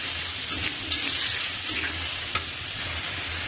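Potatoes, shrimp and spices being stir-fried in a pan, a steady close sizzle with occasional light scraping stirs and small clinks over about three seconds.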